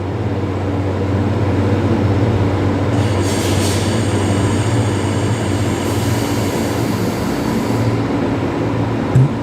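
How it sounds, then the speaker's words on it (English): Airbus A380 jet engines spool up about 2.5 km away at Brisbane Airport, a steady low droning rumble with tonal hum that holds throughout, distant but strong. "we can just hear the spool up of the A380 right down there"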